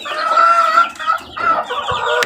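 Chicks peep and cluck continuously at close range while being fed a mix of banana and rice, with a few brief breaks between the calls.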